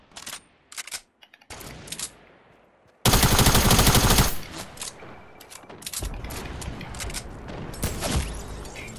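Fortnite gunfire: sharp single shots early on, then a loud, dense automatic burst lasting about a second, followed by scattered shots and game sounds with no talking.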